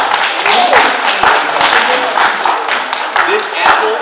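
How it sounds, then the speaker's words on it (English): A studio audience gives loud, sustained applause with dense clapping and crowd noise, and voices mix in over it. "let's give a round of applause"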